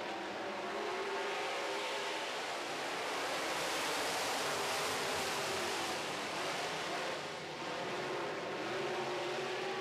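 Modified race cars run their heats on a track, a broad, steady roar of engines and rushing noise at moderate level with slight swells, no clear individual passes.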